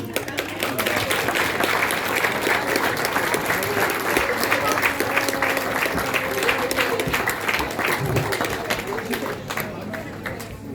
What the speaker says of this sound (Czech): Pojďme společně přivítat naše tanečnice velkým potleskem.